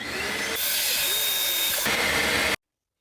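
A shop vac, a wet vac, sucks at a clogged bathroom sink drain, making a loud steady roar that surges into a harsher gurgling pull for a moment before it cuts off abruptly.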